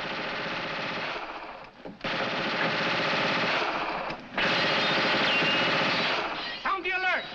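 Sustained bursts of rapid gunfire, loud and dense, broken by two brief pauses, with a voice briefly near the end.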